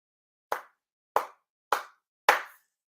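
Four sharp hand claps ring out one by one at a Shinto ceremony, evenly spaced with brief silence between them, each crisp and close with a short decay, the last slightly fuller.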